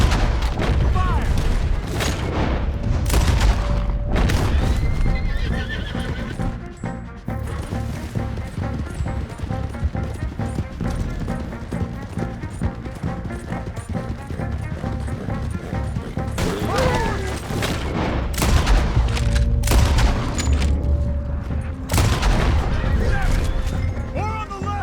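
A chaotic gunfight in the Western game Red Dead Redemption 2: dense rifle and pistol shots and heavy blasts keep bursting out, with shouting voices mixed into the constant din.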